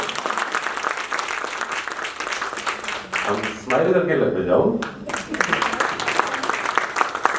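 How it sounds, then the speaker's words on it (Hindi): An audience at a spiritual gathering claps for themselves in a hall, with brisk sustained applause interrupted midway by someone speaking over the microphone before the clapping picks back up. "ताली बजाइए अपने लिए, इतनी ठंडी ठंडी ताली अच्छे से बजाइए।"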